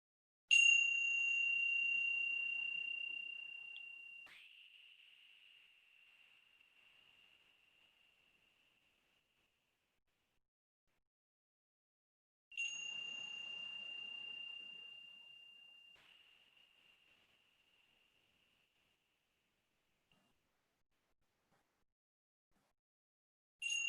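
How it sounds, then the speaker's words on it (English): A small meditation bell is struck twice, each a clear ringing tone that slowly fades to silence, the second strike about twelve seconds after the first. "I'm going to ring this little bell now, and at the end, I'll ring it again."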